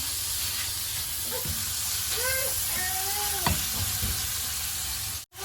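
Ingredients for northern Thai larb stir-frying in a hot pan, a steady close sizzle and hiss with a few scraping stirs and a brief clatter near the end; a voice briefly speaks over it.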